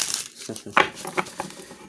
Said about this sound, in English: I've been trying to shuffle these cards.